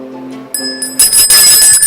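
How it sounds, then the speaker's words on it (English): A small hand bell, a gift, rings out in a few bright, sharp metallic strikes that grow busier and shimmer on, close and fairly loud, with no speech over it. "This bell is not loud, man."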